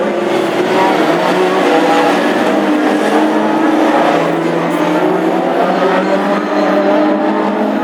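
Classic hot rod cars race around an oval track at Ipswich with oil on the surface, a steady dense engine roar with cars passing continuously, loud and unbroken throughout.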